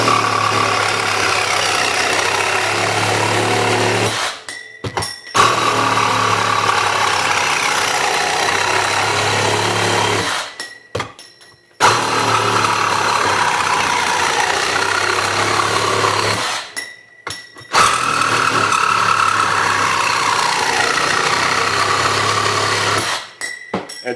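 A Ryobi 18 volt One Plus cordless reciprocating saw cutting steadily at a loud, constant buzz, with three brief pauses between long cutting runs.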